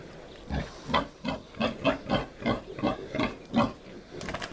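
A pregnant sow nursing piglets grunts in a steady rhythm, about a dozen low, close pulses evenly spaced, with soft squeaks toward the end.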